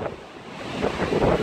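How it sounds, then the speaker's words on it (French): Strong outdoor wind buffeting a microphone among trees during a metal-detecting outing, a rough, gusty roar swelling louder toward the end, heard alone. "Désolé s'il y a beaucoup de vent."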